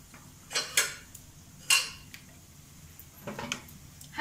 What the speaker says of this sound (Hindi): हल्के आंच से चलाएंगे, ज़्यादा नहीं, कुछ सेकंड के लिए बस।